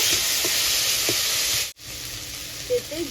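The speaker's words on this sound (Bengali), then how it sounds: "ঢাকনাটা এবার তুলে নিলাম ভালো করে নেড়ে চেড়ে নেব" Shrimp and pointed gourd dorma sizzles in a pan after the lid comes off, a steady close frying hiss with a brief break, then soft scraping clicks as it is stirred.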